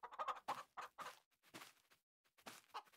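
Chickens cluck in the Farming Simulator 22 farming game, a run of short, bright, clipped calls in irregular bursts with brief pauses, fairly close and alone.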